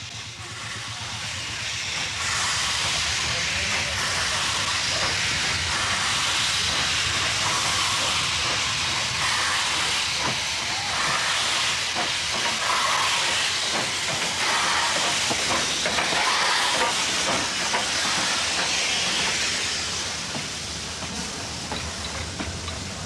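A steam train on Indian railways arrives with loud continuous steam hiss and rumbling wagons. Rhythmic clickety-clack comes through as the train passes close by, and the sound fades slightly at the end.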